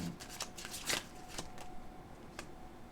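Tarot cards being shuffled close by, a run of soft riffling flutters and papery slaps over about three seconds with no talking.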